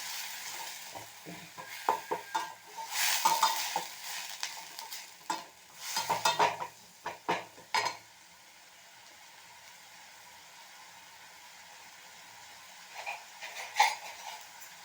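Ground onion sautéed in a pan for paneer gravy, heard as bursts of close sizzling and scraping stir strokes for about eight seconds, then near quiet with a faint sizzle and one more stirring burst near the end.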